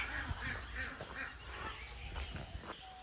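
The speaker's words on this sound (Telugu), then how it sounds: "బాతులు అరుస్తున్నాయి ఆడ" Ducks quack repeatedly at an eco park in Telangana, a run of nasal calls close by over outdoor background noise, with a faint voice in the mix.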